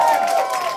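Audience cheering for a rock band at a Prism Hall concert: a brief, steady wash of crowd noise with voices blended in, loud and close.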